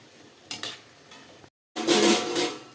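Mirchi bajji fritters frying in oil and being turned, quiet bubbling with sharp clinks of a utensil against the pan, a brief silent break, then a louder rush of sizzling.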